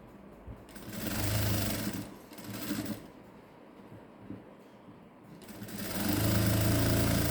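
Sewing machine stitching pleats into patiala pants fabric, running in several close, loud bursts with short pauses between, steady mechanical whirring and rapid needle clatter.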